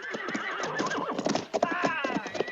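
Horses whinny and neigh repeatedly while hooves clop steadily on the ground, a busy, continuous mix of several animals close by, with voices faintly mixed in.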